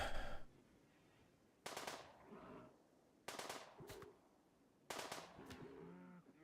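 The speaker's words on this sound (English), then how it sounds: "She's shooting a machine pistol at a Muffalo." A machine pistol fires at a Muffalo in RimWorld, producing three loud, evenly spaced bursts of rapid shots. Softer creature-like calls and rustling fill the gaps between the bursts.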